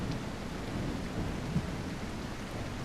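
Steady rain pours in a thunderstorm inside a video game, with a low rumble of thunder under the dense hiss and no voices.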